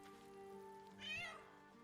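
A cat in Baldur's Gate 3 gives a single clear meow, rising and then falling in pitch, over steady game music with no talking.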